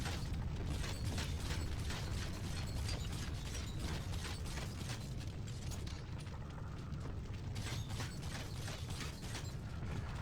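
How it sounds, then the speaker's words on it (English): Mechanical clanks, ratcheting and creaks from placing trap rivets and proximity mines in the video game Bioshock 2 Remastered, a busy stream of metallic clicks over a low rumble, with no talking. "I think I'll place a few trap rivets and proximity mines around the body"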